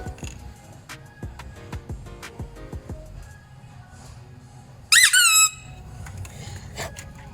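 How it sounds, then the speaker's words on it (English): A small squeeze bike horn honked inside a store, a short sharp squeaky double blast rising loudly over quiet background shuffling and clinks. "That little girl horn that goes on a bike, that was so loud."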